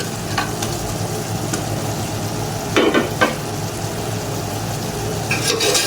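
Previously roasted potatoes are stirred into chicken pulao in a pot, giving a steady, dense frying sizzle with a few bursts of spoon scraping and shuffling, close by.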